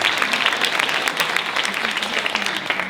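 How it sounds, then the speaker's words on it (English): Applause from an audience at a high school class reunion, a broad steady wash of many hands clapping at once, sustained and dense throughout with no breaks. "So maybe one more round of applause for everyone that keeps this great school running."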